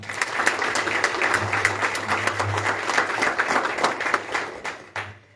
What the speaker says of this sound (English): but let's give him a round of applause, Camilio DeRosa.